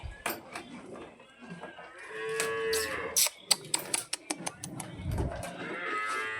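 A household dairy cow moos close by in one drawn-out low call, surrounded by sharp knocks and clatter as it feeds, with faint voices nearby.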